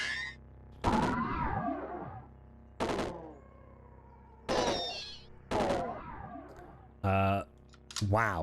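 Gunshots in the video game Caves of Qud ring out as five or six sharp, separate reports spaced a second or two apart, each with a ringing metallic tail, while a voice talks between them.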